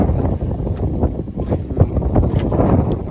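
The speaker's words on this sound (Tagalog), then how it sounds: "Ang lakas ng hangin." Strong outdoor wind buffeting the microphone on a road near a house lot, a continuous loud gusty roar with rushing bursts and no clear talk.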